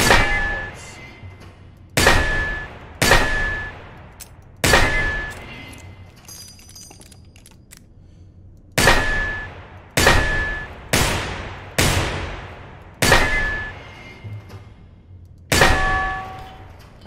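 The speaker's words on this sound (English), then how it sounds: "Right now, I'm shooting targets" Target shooting in Receiver 2: about ten sharp, loud single gunshots, each with a ringing metallic clang and decaying echo, fired at uneven intervals with pauses, no voices over them.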